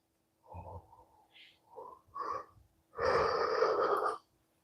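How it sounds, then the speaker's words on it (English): A person yawning: a few short breathy sounds build to one long, loud, open-mouthed yawn of about a second before it stops abruptly, heard close up with no talk. "See me yawning."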